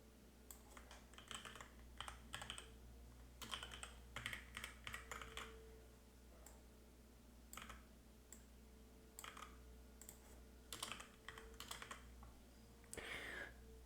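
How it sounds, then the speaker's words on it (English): Typing on a computer keyboard while coding, quiet bursts of rapid key clicks separated by short pauses, close and alone with no talking. "Let's type those."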